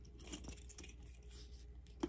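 Keys jingle faintly on a new Louis Vuitton Alma BB Fornasetti handbag as it is handled, soft metallic clinks scattered across a quiet room with a sharper chink near the end.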